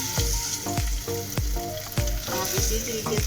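Potatoes fry in a pan of oil with cumin, a loud, close sizzle punctuated by repeated scraping knocks of a stirring spoon against the pan in a steady rhythm.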